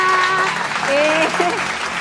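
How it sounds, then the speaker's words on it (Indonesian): Steady applause from a group fills the clip, with a bit of background voice and a short musical tone drifting through. "Tepuk tangan semuanya."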